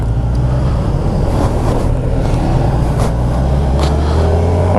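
A 2022 Kawasaki Ninja 1000SX motorcycle accelerates smoothly, its engine a continuous droning roar heavily mixed with wind rush across the microphone, with no talking.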